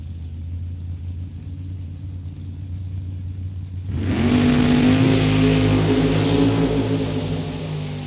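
Drag race cars, a Camaro and a Thunderbird, launching at a drag strip: low idle rumble gives way to a sudden loud roar of engines revving hard, sustained and rising.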